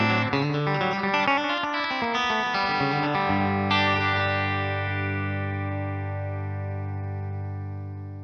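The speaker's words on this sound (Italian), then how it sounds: "ho registrato alcune chitarre sul mio looper, in modo da avere le mani libere e farvi sentire i cambiamenti in tempo reale" A looped electric guitar runs through AmpliTube 5 amp and effects modeling, a chorus-tinged distorted line of picked notes that ends in a long sustained chord ringing out and slowly fading.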